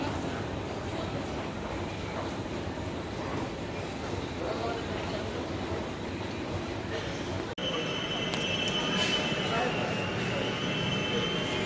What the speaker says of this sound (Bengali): চলে এসেছে ট্রেন